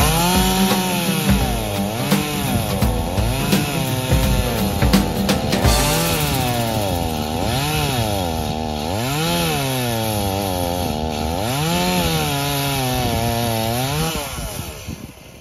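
A chainsaw clears neglected silvopasture, starting with sharp revving bursts, then settling into a loud, sustained, wavering whine as it bites through wood for most of the stretch before easing off.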